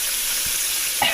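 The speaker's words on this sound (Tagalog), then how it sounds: "Nagpiprito siya ng tilapia." Tilapia fries in a pan with a steady, close hiss and sizzle, with faint stirring near the end.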